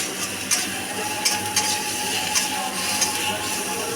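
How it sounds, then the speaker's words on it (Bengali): A pan of spices with turmeric, tomato and chili is stirred while it fries. A soft sizzle runs steadily underneath, with a few sharp scraping clicks from the stirring. "দিয়ে এবার ভালোভাবে মশলাগুলোকে নাড়িয়ে চাড়িয়ে মিশিয়ে নিচ্ছি"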